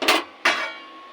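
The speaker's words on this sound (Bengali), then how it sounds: "ঢাকা দিয়ে দিচ্ছি।" Two sharp metallic clanks of a lid set onto a cooking pot while making shukto, the second ringing on briefly before fading, close and alone.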